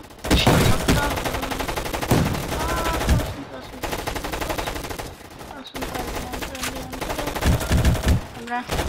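Rapid automatic gunfire from a gun in the Roblox shooting game, dense, loud bursts sounding almost continuously with short gaps, and some talking underneath.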